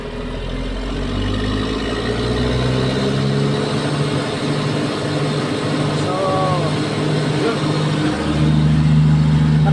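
A Cat D6R2 bulldozer's diesel engine runs loud and close, its steady rumble rising as the accelerator is pressed, with the revs climbing and holding near the end; people talk faintly over the engine.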